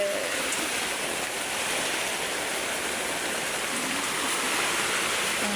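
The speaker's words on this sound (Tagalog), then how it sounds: "Ang lakas-lakas ng ulan." Heavy rain pouring down during Typhoon Kristine, a dense, steady hiss of downpour, loud and unbroken throughout, with no voices.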